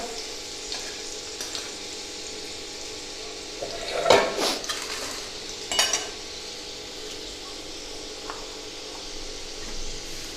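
Garlic sizzling in hot oil in a pan, a steady soft frying hiss with a couple of brief louder bursts from stirring, close and alone.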